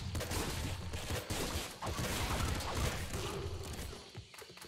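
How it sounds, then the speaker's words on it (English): Dense burst of video game gunfire from a weapon in Nuclear Throne Ultra Mod, where one shot spawns a swarm of projectiles: a rapid, continuous clatter of overlapping shots and impacts, steady and busy throughout, with no speech. "We fire one shot and it, like, creates an entire swarm of different shots coming from every angle"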